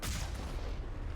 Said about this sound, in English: and launch a fucking missile